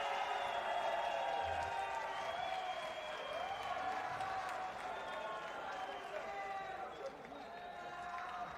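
Crowd applause and cheering fill an arena at the Abu Dhabi World Professional Jiu-Jitsu Championships after a fight, a steady loud roar of clapping with voices mixed through it and no break.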